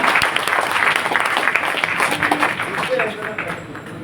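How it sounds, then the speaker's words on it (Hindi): Loud applause and clapping from an audience at a network marketing meeting, strong at first and then easing toward the end, with crowd voices mixed in. "सबके लिए एक बार जोरदार ताली।"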